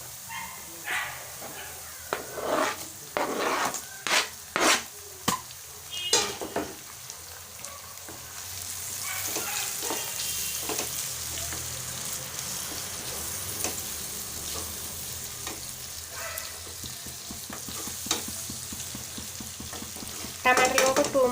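Tomatoes frying and being stirred in a pan for a spicy egg curry gravy, with steady sizzling, scraping stirs early on, and a dog barking briefly in the background.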